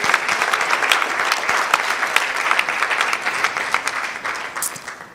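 Steady, dense crowd applause from a large audience at a national championship launch event, continuous and fairly loud throughout with no pauses.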